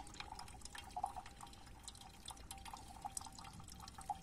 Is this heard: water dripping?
yes